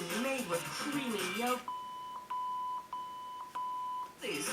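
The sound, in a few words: radio confirmation beep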